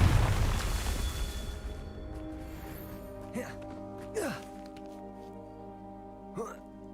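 Three sharp booming bursts of the Confringo fire spell in the Hogwarts Legacy video game, each a quick whoosh and blast over a steady musical score, spaced a second or two apart after a loud opening swell.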